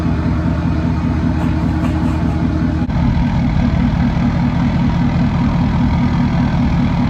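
A straight-piped 6.7 diesel truck with a big turbo rumbles loudly and steadily in a deep, throbbing idle, the pitch shifting slightly partway through as the engine note changes.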